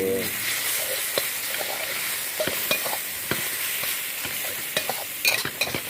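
Marinated pork stir-frying for Thai kaprao (holy basil stir-fry) in a hot pan, with a steady sizzle and hiss and scattered sharp clinks and scrapes of a spatula throughout.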